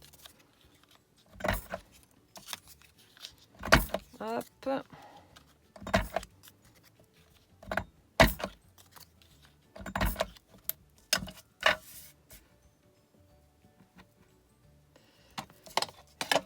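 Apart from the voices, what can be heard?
paper corner rounder punch rounding the corners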